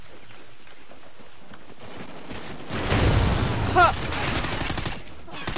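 Sentry gun firing in Call of Duty Ghosts multiplayer, a loud rapid burst of automatic gunfire starting partway through, mixed with game noise and a brief shout.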